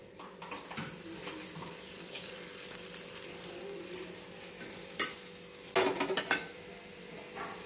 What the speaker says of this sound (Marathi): मी इथे गावरान तूप लावून घेणार आहे।